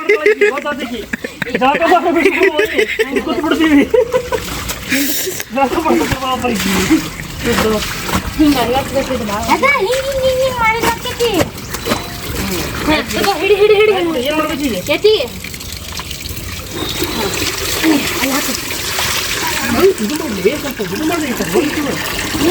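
Water flows and splashes steadily, close by and fairly loud, with people talking over it almost the whole time.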